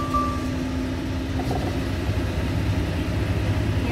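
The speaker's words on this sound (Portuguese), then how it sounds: "vou ligar o caminhão" A truck's diesel engine idles with a steady, low, pulsing rumble throughout. It sits close and loud and runs alone with no talk.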